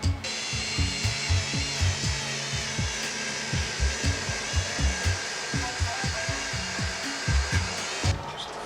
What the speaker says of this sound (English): Then I remembered my Dremel.